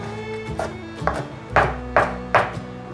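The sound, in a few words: knife chopping red bell pepper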